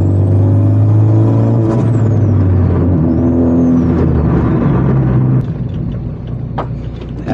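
A modified 500 hp Honda Civic Type R drives on a back road, its engine note loud and close with rising and falling harmonic tones, easing off near the end.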